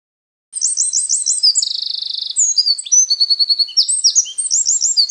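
A wren sings a loud, rapid, high-pitched song of fast trills and chirping phrases, including a sustained buzzing trill, heard close and clear without other sounds.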